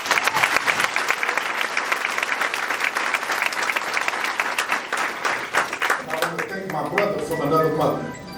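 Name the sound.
applause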